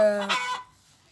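A chicken gives a short, throaty cluck that breaks into a brief squawk, then fades into near silence.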